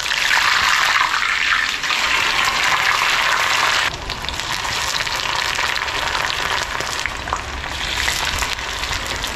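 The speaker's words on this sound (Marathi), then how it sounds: "आतांची खातीर आतां फ्राय करया" Slices of suran (yam) fry in a pan with a loud, steady sizzle that drops slightly in intensity partway through, then continues crackling close up with no talking.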